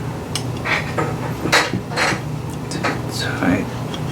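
An 8mm combination wrench tightening hardware: scattered light metallic clinks and taps, several sharp ticks spaced irregularly, close, over a low steady background hum.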